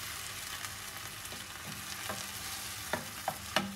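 Eggplant rougail reducing in a pan, a close continuous sizzle with a few sharp scrapes of a spoon stirring near the end.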